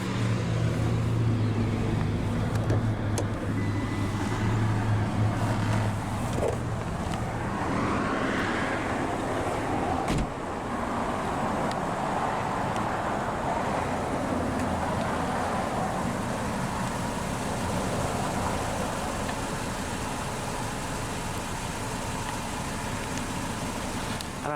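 A 2019 Mitsubishi Eclipse Cross with a 1.5-liter turbocharged dual overhead cam 16-valve engine runs at a steady idle, a continuous low hum with faint broadband hiss throughout, no voices.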